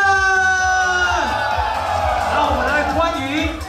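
An audience at the JKF goddess night show cheers, whoops and screams loudly and continuously over booming stage music.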